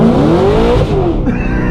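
A 900-horsepower E85-fuelled Corvette ZR1 on stock tires accelerating hard with its tires spinning, the engine note loud and close as it climbs steeply, then dips at a brief shift.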